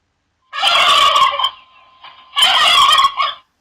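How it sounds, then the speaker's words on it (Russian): Two loud bursts of a turkey's rapid, warbling gobble, close and alone, with a short quiet gap between them. "Индюк."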